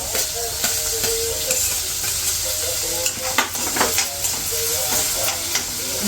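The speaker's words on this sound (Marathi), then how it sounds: "कढीपत्ता आणि कांदा मस्त कांदा एकदम फ्राय करून घ्यायचा चांगला लालसर करायचा" Onion, tomato and curry leaves fry in a pan with a steady sizzle, broken by repeated sharp scrapes and clicks of a spoon stirring against the metal, heard up close with no one speaking.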